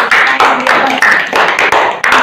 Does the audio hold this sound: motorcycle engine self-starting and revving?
no